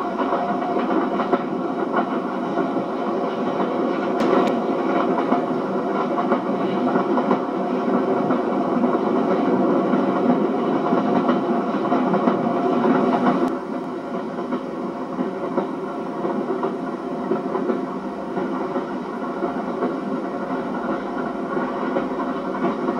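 A train rolling along the line past Yarnton Junction toward Oxford produces a steady rumble and rhythmic clatter of wheels, moderately loud and continuous, easing slightly partway through with no voices.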